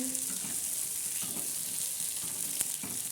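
Chana dal chutney roasting on a hot tava, giving a steady soft sizzle and crackle with occasional scraping or stirring touches, moderately close and unbroken by any talk.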